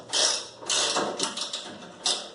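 Ratcheting mechanical clicks and creaks from a wrench loosening a bolt on a tow bar during installation, coming in several close, moderately loud bursts with short pauses between them.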